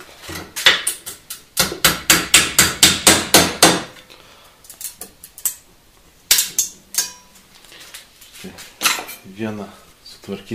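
A hammer striking a thin saw blade on metal to shape small knives, with rapid bright ringing blows in a fast burst, then pauses and further irregular strikes, up close.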